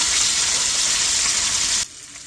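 Hilsa fish pieces frying in hot oil, a loud steady close sizzle and hiss that cuts off abruptly near the end, leaving near silence, no talking.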